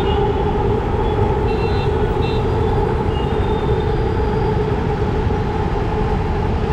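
A Hyderabad metro train arriving at Uppal station, heard as a loud, steady rumble and hum with faint high squeals above, continuous throughout with no talk.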